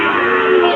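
A cow at a cattle market lets out a loud, sustained moo that holds steady for under a second, close to the listener.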